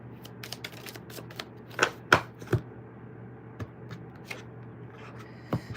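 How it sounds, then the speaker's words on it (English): Soft, fairly close riffle shuffling of a tarot deck, with sparse crisp card flicks and a few louder snaps and taps between quiet stretches. "We'll do 2 more shuffles"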